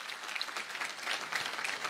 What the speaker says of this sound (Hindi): एक बार जोरदार अकरम भाई के लिए और महेश भारती सर के लिए तालियां होनी चाहिए